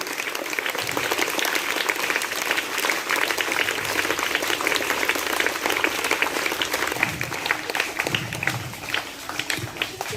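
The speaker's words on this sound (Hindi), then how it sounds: "एक जोरदार तालियों से उनका भी अभिवादन किया जाए" A school audience applauds winning student participants at a school function, dense sustained clapping from many hands that fills the whole stretch evenly, with no speech over it.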